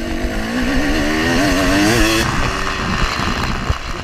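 A dirt bike engine roars continuously during a three-hour GNCC cross-country off-road race, with rising and falling revs from the rider throughout, loud and close with no talk.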